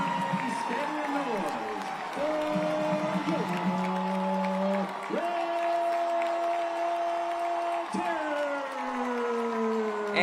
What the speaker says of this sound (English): you can hear that crowd roar for their Glynn Academy Red Terrors